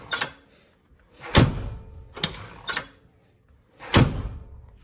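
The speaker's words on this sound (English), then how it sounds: "driver's side front door without sound deadening." Front driver's door of a car without sound deadening shutting several times: sharp, ringing thunks with some rattle, close and moderately loud, each followed by a short fading tail.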